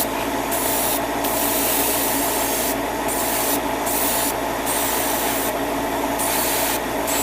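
Continuous close airbrush or spray-can hiss coating HG Gundam 00 Diver Ace model kit parts, steady and loud, with brief pulses of brighter hiss as the spray is triggered on and off.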